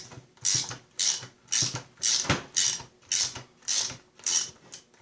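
A self-locking nut being wrenched off a Snapper RER rear-engine riding mower with a ratchet, giving a steady run of about nine clicking, grinding bursts in an even rhythm, close and loud, with no talk.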